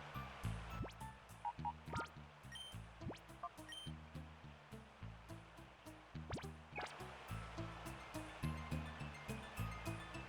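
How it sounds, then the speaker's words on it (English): Flowing water in the GameCube game Pokémon Colosseum, a steady burbling stream with rhythmic low pulses and scattered drips, quiet and continuous with no music or talk over it. "Music stops, but the water still sounds."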